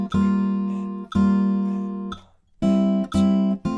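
Fingerstyle acoustic guitar plays the intro, with sustained plucked chords ringing out in a slow, even rhythm, close and clear with no voice.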